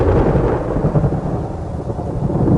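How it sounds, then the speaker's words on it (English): Heavy thunderstorm rain on the African savanna, a loud, continuous roar of downpour with deep rumbling thunder, close and dense throughout, with no voices. "these rains fall on a very confined area of just a few square kilometers"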